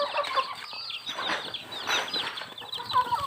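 Young chicks peep and cheep in a continuous, busy chorus of high, thin calls, with occasional clucks from nearby fowl, all fairly close and steady throughout.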